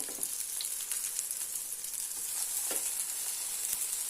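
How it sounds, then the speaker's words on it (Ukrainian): Steady crackling sizzle of psyllium fritters frying in hot oil in a pan, continuous and close, with a few brief clicks of utensils. "Ось так смажиться, все дуже гарно."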